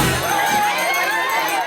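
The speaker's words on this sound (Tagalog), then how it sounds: "Mainit na pagtanggap, sigaw ng pagkakaisa at matatag na paninindigan ang sumalubong kay Senator Robin Padilla" A crowd at a political rally welcoming Senator Robin Padilla shouts and cheers loudly, with overlapping high-pitched voices and sustained yelling close by.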